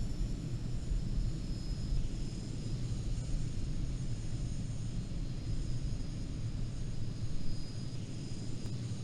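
A jet taking off in the Falcon 4 Allied Force flight simulator, a steady broad engine roar and rumble that holds constant throughout, loud with no speech.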